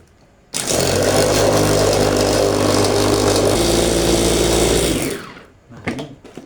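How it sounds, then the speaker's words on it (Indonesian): An electric food chopper runs loud and steady for about four and a half seconds, coarsely chopping cabbage with a little water. It whirs to a stop, followed by a few faint knocks. "dan kita siap chopper. Kita chopper kasar ya."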